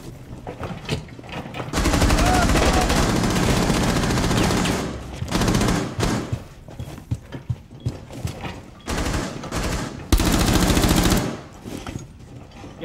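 Loud, close bursts of automatic rifle fire in the tactical shooter Rainbow Six Siege, several long sustained volleys separated by short pauses and scattered single shots.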